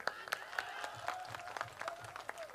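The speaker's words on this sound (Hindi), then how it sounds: "मैं चाहता हूं एक बार और तालियां बजाएं।" Fairly faint, rhythmic clapping from the audience at a Hindi poetry recital, with sharp regular claps over a soft sustained tone.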